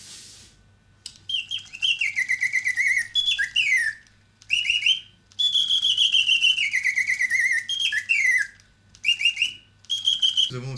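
Chaffinch song from a restored antique Reuge mechanical singing bird movement: rapid, clear whistled trills and descending flourishes in several bursts separated by short pauses, near and fairly loud over a low mechanical hum.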